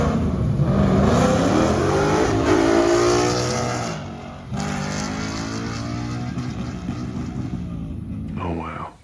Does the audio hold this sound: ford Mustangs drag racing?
yes